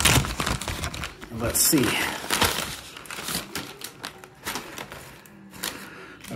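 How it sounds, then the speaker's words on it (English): A paper food delivery bag holding a sandwich, onion rings and a drink is torn and crumpled open up close, loud crinkling bursts running throughout while a person speaks briefly over it. "So let me tear this open."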